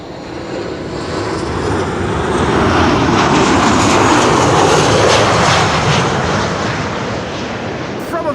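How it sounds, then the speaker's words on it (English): Transavia passenger jet landing on runway 06 at Amsterdam Schiphol, a loud broadband engine roar that swells to a peak mid-pass and slowly eases, heard close and alone. "This is Transavia flight 6598 returning from Corfu."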